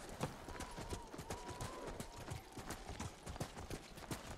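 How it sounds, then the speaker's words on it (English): Horse hooves gallop in a video game in a fast, steady clip-clop rhythm, faint and continuous, with a brief whinny-like tone mixed in. "Horse!"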